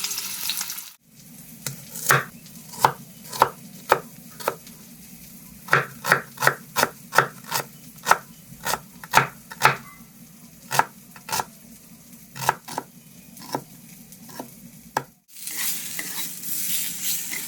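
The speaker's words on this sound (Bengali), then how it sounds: "এবার পটলগুলো ভাজতে বসিয়ে দিলাম" Pointed gourd (potol) frying in oil, a steady sizzle broken by a long run of sharp spatula scrapes and taps against the pan, clear and close with no talk.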